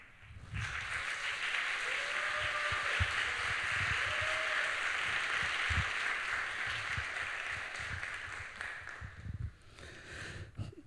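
A church congregation at a Sunday youth worship service breaks into sustained, warm applause that swells and holds steady for about nine seconds, then fades out, with no speech over it.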